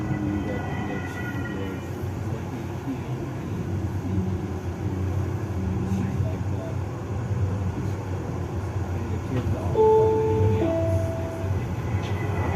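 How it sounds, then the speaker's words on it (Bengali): Edmonton Capital Line light rail train running between stations, heard from inside the car as a continuous low rumble and rolling wheel noise, with a couple of short electronic tones near the end. "এখন ট্রেন যাচ্ছে তার গন্তব্যের দিকে"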